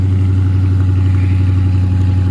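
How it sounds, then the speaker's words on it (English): A 2020 Dodge Charger R/T with its stock exhaust idles close by, a loud, steady low rumble holding one even pitch throughout the short stretch with no talk over it. "As you can tell, it has a very nice exhaust for being stock."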